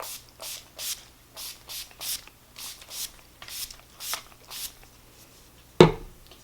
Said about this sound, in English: I'm just going to go ahead and spray this on